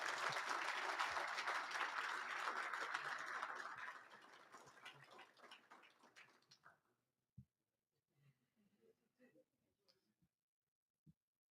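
A ceremony audience applauds an award recipient at a Wounded Warrior leadership awards event. The dense clapping is loud and steady for about four seconds, then thins and fades out, leaving a few scattered claps and small noises in near silence.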